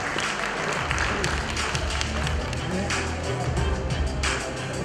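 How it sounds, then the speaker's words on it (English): An audience at an Indian Academy of Echocardiography fellowship ceremony applauds with sustained, dense clapping that stays loud and even throughout. "give a big round of applause"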